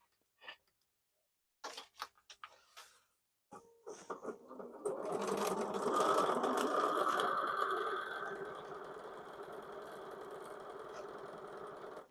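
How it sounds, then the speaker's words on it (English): A sewing machine stitches fabric for a chicken project: a few brief starts and ticks, then a sustained, steady mechanical whirr running close and moderately loud for several seconds before easing slightly. "Let's go sew this on."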